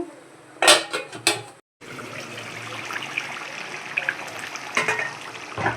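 A metal lid clanks onto a pot of frying fish, two or three sharp metallic knocks followed by a brief cutoff, then a steady sizzle and bubbling with a few more clinks.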